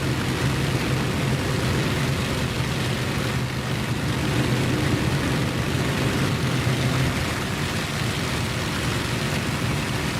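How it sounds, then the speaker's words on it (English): Bomber aircraft in the Warbirds of Prey flight game drone steadily through the whole stretch, a loud, constant engine roar with no pauses or talk. "Got some bombers returning"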